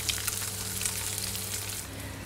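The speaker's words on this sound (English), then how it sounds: "get a frying pan nice and hot and add the pieces to sear" Salmon pieces searing in a hot frying pan, a steady close sizzle and crackle of fish in oil that holds evenly for the whole stretch, with no voices.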